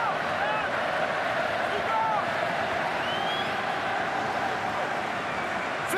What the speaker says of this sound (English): Everyone going mental, watching it up in the stands. Fair play, the Montpellier crowd are still giving it some beans.